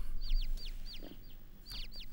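Chickens cluck and chirp in a series of short, rising calls that repeat in quick bursts, close and fairly clear over a steady low background hum.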